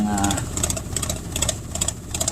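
A split air conditioner runs with a steady hum and a rattling vibration that pulses in quick, uneven bursts, fairly close and loud.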